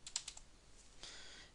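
A few quick keystrokes on a computer keyboard entering a Windows command, faint soft clicks close by in a quiet room.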